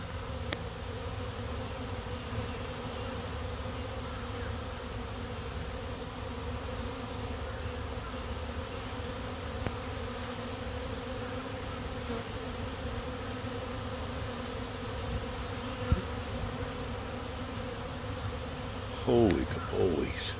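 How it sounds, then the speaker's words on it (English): Many bees buzzing around beehives, a dense continuous drone that holds steady and close throughout, with a brief rustle near the end. "There's a lot more bees here than I thought."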